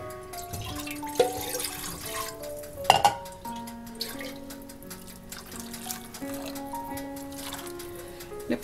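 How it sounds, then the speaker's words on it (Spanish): A little water poured into red rice being cooked in a small countertop oven, heard as soft drips and trickles with light clinks of a pot, fairly quiet and close. "Le puse otra poquita de agua."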